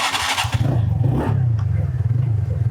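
TVS Ntorq 125cc scooter exhaust, a grunty, bassy low engine note idling and revving close by under a voice.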